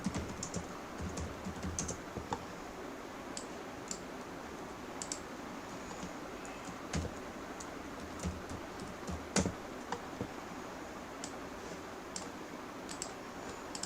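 Computer keyboard typed on at a steady pace while entering data into an SQL Server temp table, quick light clicks close up with occasional louder keystrokes and no talking.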